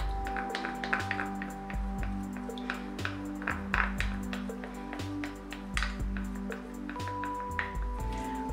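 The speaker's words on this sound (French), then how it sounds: "Je vais venir verser le tout à l'intérieur." Cream poured from one bowl into a larger bowl, with soft drips, squishy liquid sounds and light pinging taps of a utensil against the bowl running steadily throughout, close by.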